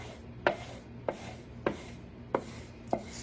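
A biscuit cutter pressing down through soft biscuit dough, five crisp cuts at an even rhythm, each a short close tap against the board, with no talking.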